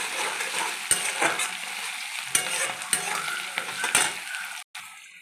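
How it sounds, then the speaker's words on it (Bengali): Green chillies and chopped ginger sizzle in hot oil while a spatula stirs and scrapes the pan in uneven strokes, close and moderately loud, for an egg chilli dish. "এরপরে দিলাম কাঁচা লঙ্কা আদা কুচি দিয়ে ভালো করে আমি লাল লাল করে একটু হালকা ভেজে নেবো"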